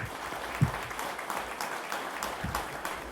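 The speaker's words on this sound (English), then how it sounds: "Give him a warm applause." Audience at a pinball museum evening event applauding to welcome a guest, a soft steady patter of clapping heard from a distance for about three seconds.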